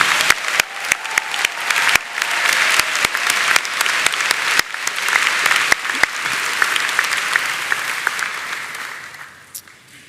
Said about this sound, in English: Let's do a huge round of applause for the people who cheered you on